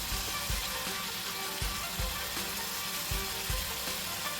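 Prawns sizzling in a pan over a high flame, a steady bright frying hiss with occasional low clunks and stirring knocks, close and with no talk over it.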